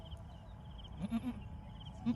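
Goats bleat a few times, short nasal cries rising out of a low rumbling farmyard background.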